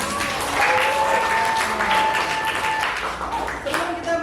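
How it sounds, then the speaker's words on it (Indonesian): Students in a classroom applaud after a presentation: dense, lively clapping that swells and holds for a few seconds, with voices and a faint tone mixed in. "boleh semuanya tepuk tangan"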